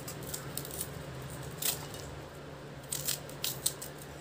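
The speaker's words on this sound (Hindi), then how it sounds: "पहले इसके डंडा को मैं काट देती हूँ।" A cauliflower stalk is cut, producing a few sharp, crisp snips and clicks at irregular intervals against a quiet background.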